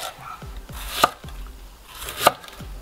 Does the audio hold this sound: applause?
no